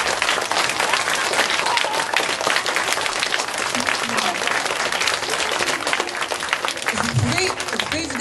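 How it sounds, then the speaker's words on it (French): An audience at a book launch applauds the author, a dense sustained ovation of many hands clapping throughout, fairly loud, with a few voices faintly mixed in toward the end. "Je pense que M. Perrault mérite une grande main d'applaudissements."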